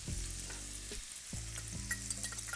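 Garlic and bright red onion sizzle and fry in a pan for a few seconds, a steady hiss broken by stirring scrapes, with no voices.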